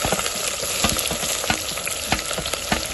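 Onions sauté in hot oil with whole spices such as clove for chicken biryani, giving a steady close sizzle broken by regular scraping stirs of the pan.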